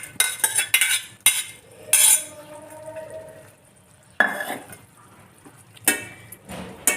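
Boiled squid being tossed in a hot pan of spicy fry with garlic and pepper, heard as sharp intermittent metal spoon clanks and scrapes against the pan between quieter stretches of low sizzling, close by.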